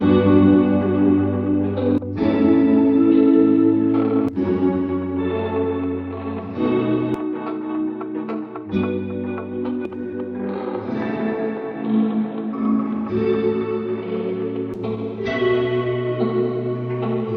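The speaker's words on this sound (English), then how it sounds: "It's using this Hollywood reverb algorithm, which is already very clear and pristine sounding." A bright synth pad preset plays sustained chords through a clear, pristine Hollywood-style reverb, its shimmering, spacious tail blurring each change into the next, loud and continuous throughout.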